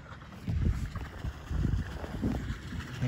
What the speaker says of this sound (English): What do I hear now? Oh,